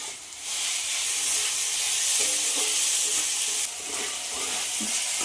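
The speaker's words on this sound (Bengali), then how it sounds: "টমেটো গলা অবধি একটু ভেজে নেব।" Chopped tomato and a little salt fry in a pan with a loud, continuous sizzle and hiss of steam. A few soft scrapes of stirring come through, and the sizzle briefly dips and then rises again.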